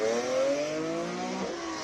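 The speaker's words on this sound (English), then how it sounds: "The classic 3-liter straight 6 normally aspirated rear-wheel drive E36" A BMW E36 race car with a normally aspirated 3-liter straight-six revs hard and close at a classic car hillclimb sprint, its engine tone climbing steadily and then dropping as it shifts, loud and continuous throughout.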